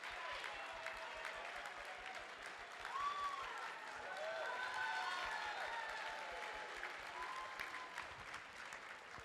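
An audience at the Miss Chinatown Houston Scholarship Pageant 2023 claps for the contestants, with sustained applause and faint cheering that swell slightly midway, heard at a moderate distance.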